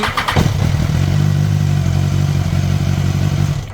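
A motorcycle engine cranks briefly and catches, then settles into a loud, steady idle with a rapid, even thumping pulse, heard up close with no speech.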